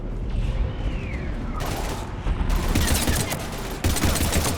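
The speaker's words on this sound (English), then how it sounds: "We're taking heavy fire." Heavy gunfire in a Mass Effect 3 combat scene, dense overlapping bursts of shots and impacts that grow louder and more intense in the second half, with no one speaking.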